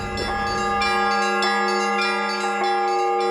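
Church bells ringing loudly and close, several overlapping strokes with long sustained, shimmering tones.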